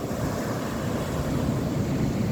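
Onshore wind gusts into a phone microphone at the coast, a loud, steady roar that buffets and rumbles continuously, with surf breaking somewhere beneath it.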